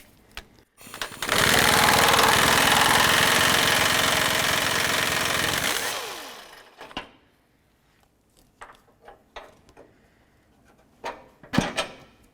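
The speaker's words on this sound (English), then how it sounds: "There's a 21mm bolt that goes through the frame rail here. There's one on each side, and we'll go ahead and take these out." A power impact tool removes a 21mm bumper bolt from the frame rail of a Chevrolet Express 3500 van, a loud rattling buzz for several seconds, then scattered metallic clinks and clunks of tools and parts.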